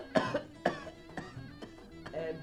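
A patient coughs on request during a doctor's examination in a comedy sketch: four or five separate, evenly spaced coughs, close and fairly loud, with quiet gaps between them.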